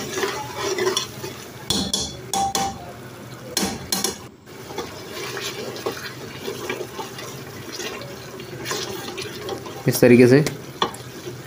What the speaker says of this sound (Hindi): अच्छे से इसको भुनाई करेंगे, 6 से 7 मिनट तक इसको भुनाई करेंगे। चम्मच चलाते रहेंगे इसमें।